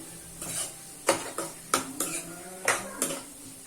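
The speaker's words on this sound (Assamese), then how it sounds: "দেখিছে, এইখিনি গোটেইখিনি আমি মিলাই ল'লোঁ।" A spoon stirs Gobi Manchurian sauce with tomato ketchup in a pan, giving several sharp scraping clinks against the metal over a soft background, close and moderately loud, with no talk.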